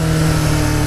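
A Yamaha motorcycle engine, compared against an R3, gives a short loud burst of revving with a steady low drone, close by and with no talk.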